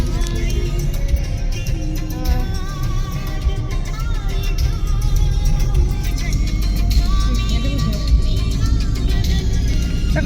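A car drives along a road past flowering roadside verges, making a steady, continuous drone of engine and road noise heard from inside, with voices faintly audible over it.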